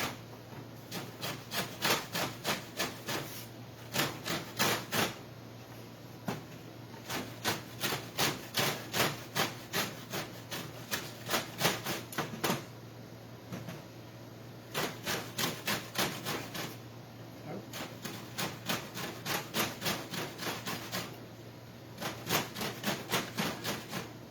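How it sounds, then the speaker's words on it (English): Lemon zest being rasped on a hand grater for muffins: rapid rhythmic scraping strokes in bursts with short pauses between, close and fairly quiet, no talking. "I'll grate some lemon zest here."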